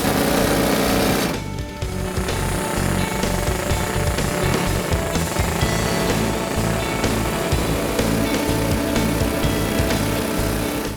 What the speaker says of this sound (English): Drill with the jackleg here